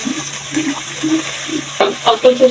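Garlic, ginger, onion and green chili paste frying in hilsa fish oil, a close sizzle and wet stirring in short bursts that grow louder and busier toward the end.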